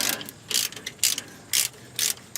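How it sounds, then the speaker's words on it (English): A hand ratchet works the rear differential cover bolts on a 2000 Ford F350 dually, giving five short bursts of rapid metallic clicking in a steady back-and-forth rhythm, close and fairly loud with no talk. "Now we'll remove these cover bolts."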